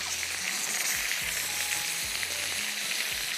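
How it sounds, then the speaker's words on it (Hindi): Chicken pieces fry in hot oil with a dense, continuous sizzle, loud and close, while a spoon or utensil stirs and scrapes in the pan. "चिकन पीसेस को फ्राई करना है।"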